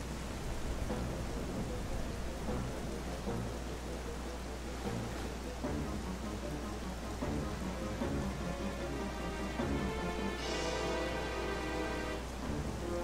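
Heavy rain falls continuously in Zelda: Twilight Princess HD, a dense steady hiss of drops with low rumbling thunder beneath and a brief brighter patter late on.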